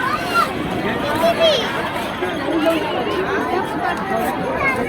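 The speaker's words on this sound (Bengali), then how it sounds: "চারিদিকে লোকে লোকারণ্য" A dense crowd of people chattering at the busy Digha seaside market area, steady overlapping voices forming a continuous babble with occasional louder calls standing out, close and constant throughout.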